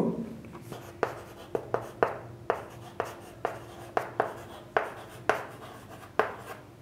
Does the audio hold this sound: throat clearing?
no